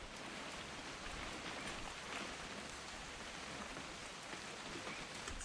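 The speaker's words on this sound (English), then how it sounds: "It's gonna rain the whole weekend, isn't it?" Steady, dense rain from the video game What Remains of Edith Finch, an even hiss of falling water that holds at the same level throughout, with no voices.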